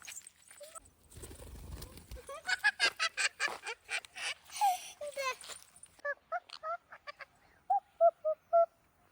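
A pet bird honks and calls in a series of short bursts, some quick and clustered and others spaced out, loud and close, with a brief rustle near the start.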